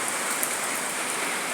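Steady rain falls on surfaces outdoors, a dense, continuous hiss of drops close by, with no talk.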